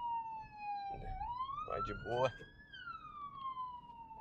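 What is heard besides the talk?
ambulance siren passing on the street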